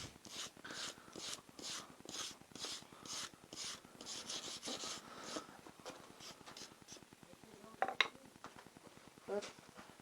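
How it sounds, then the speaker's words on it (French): Brush scrubbed over a large rusty object after a vinegar soak: repeated rhythmic rasping strokes, close and fairly quiet, with a couple of sharper metallic knocks near the end. "On va passer un coup de brosse."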